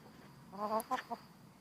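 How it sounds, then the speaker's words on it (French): Large Faverolles hens on a small organic permaculture farm in Limousin give a few soft, close clucks in quick succession, quiet against a calm background. "Donc voici mes poules qui sont contentes de me voir."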